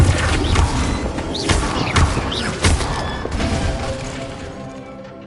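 Flipendo spells strike objects in the Hogwarts Legacy video game, landing as a rapid series of sharp impacts, crashes and thuds with whooshing magical swishes, loud and close, the clatter gradually dying away toward the end.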